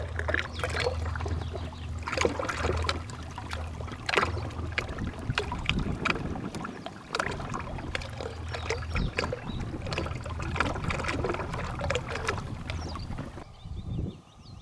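A dinghy moving across open water, a continuous low motor drone with splashing, slapping water and gusty wind buffeting the microphone, fading abruptly near the end.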